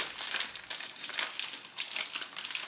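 Parchment paper folded around a yellowtail fillet to make a papillote packet, heard up close as continuous crisp crinkling and rustling in uneven bursts without talking.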